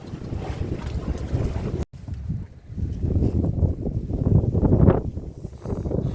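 Strong wind buffets the microphone on a small fishing boat at sea off Wando, South Korea, during an octopus fishing trip, a loud continuous rumbling roar with a brief dropout and gusts swelling toward the end.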